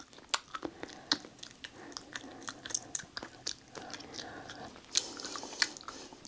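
Close, crunchy chewing on hard, stale Haribo gummy bears in an abandoned mansion, irregular biting clicks and crackles continuing for several seconds with no talk.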